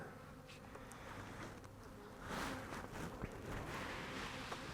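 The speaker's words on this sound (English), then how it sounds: "there's a lot of bees in here" Honeybees in a nuc hive during January make a dense, steady close-up buzz that swells slightly partway through, with no voices.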